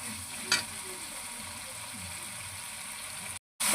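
Potatoes frying in a pan for a green chili vegetable dish give a steady, soft hissing sizzle with a brief stirring scrape, then a short silence before the sizzle returns.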